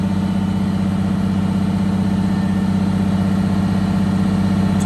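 A Detroit Diesel engine with a blower-driven tach drive runs steadily at 1,000 RPM, a loud, even low-pitched drone with a constant throb that never lets up across the whole stretch.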